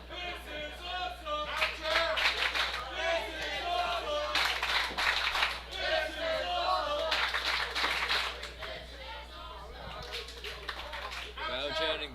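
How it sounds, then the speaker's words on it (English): Pro wrestling crowd chanting and clapping in rhythm after a near-fall power slam, a loud, dense arena roar that swells and dips throughout. "Crowd chanting, "This is awesome.""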